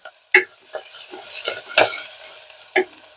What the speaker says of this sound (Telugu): ఇవన్నీ కమ్మటి వాసన వచ్చేంత వరకు వేయించుకోవాలండి